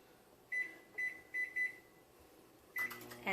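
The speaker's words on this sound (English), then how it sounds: "I'm going to put it for 15 minutes in the microwave." Kitchen microwave oven heating black beans, giving a series of short electronic beeps as its timer is set, several evenly spaced tones followed by a final beep, close and clear over a faint hum.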